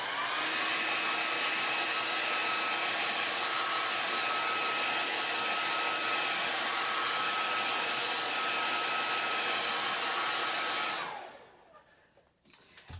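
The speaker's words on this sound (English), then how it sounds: "And grab my hair dryer here." A hair dryer blows steadily at close range with a constant whirring hiss, then switches off near the end and winds down to quiet.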